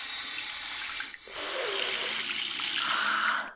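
Water runs from a tap as hands are washed, a close steady gushing stream that briefly dips, then splashes louder before cutting off at the end.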